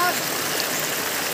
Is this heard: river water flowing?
yes